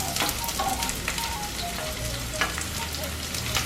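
Chopped onion sautéing in hot oil with ginger and garlic for a beef curry, a steady close sizzle with occasional stirring scrapes, no voices.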